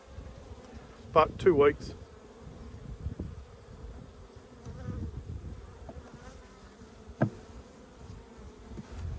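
Honey bees buzz around an opened beehive during winter preparation, a close, continuous hum with individual bees zipping past the microphone and brief speech in the background.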